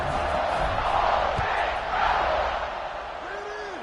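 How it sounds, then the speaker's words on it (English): A stadium crowd roars in College Football 26 at a USC game before kickoff, a steady loud wash of cheering with a few whoops rising through it. "this crowd now ready to get behind them"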